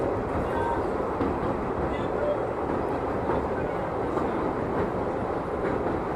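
A Rameswaram passenger train crosses the new Pamban sea bridge, its loud, continuous rumble filling the space from start to finish as if heard from on board.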